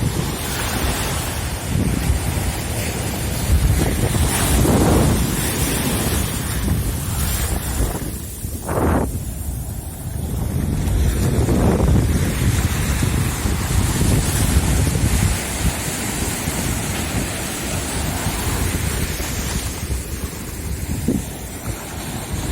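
Ocean surf rolls in on Praia Grande beach at Arraial do Cabo, with waves breaking in loud swelling washes and strong wind buffeting the microphone throughout.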